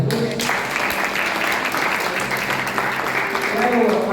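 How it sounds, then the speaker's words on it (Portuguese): A church congregation claps together, a dense sustained wash of applause with a voice speaking over it throughout. "Dê uma salva de palmas para Jesus."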